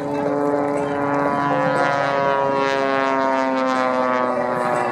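Biplane at the Jones Beach air show, its propeller engine droning loud and steady throughout with a strong harmonic hum and no pauses.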